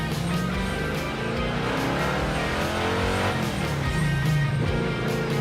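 The Wreck Runner's car engine revs up hard toward about 6,000 RPM, a loud, steady, close-up roar that climbs and holds without a break, with no voices.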